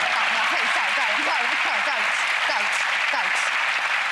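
Loud, dense applause from a television magic show studio audience fills the whole stretch, with a voice talking over the sustained clapping.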